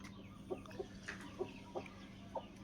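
Fighting cock clucking in short, low, evenly spaced bursts, about six calls over a few seconds, fairly close and alone against a quiet background hum.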